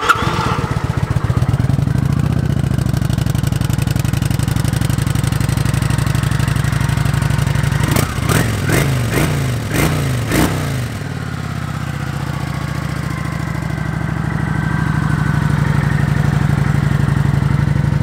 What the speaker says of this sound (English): 2017 Kawasaki Vulcan 900